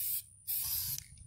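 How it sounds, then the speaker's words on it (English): Spray can hissing clear coat onto painted baitcasting reel parts, two close bursts separated by a short pause, the second longer and tapering at the end. "now I'm just going to spray them with a clear coat just to kind of help protect it and seal it"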